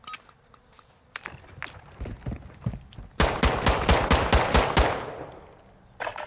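Rapid bursts of gunfire from a shooting video game in a market setting, a dense volley of near, loud shots lasting about two seconds, preceded by scattered single shots and followed by a fading tail.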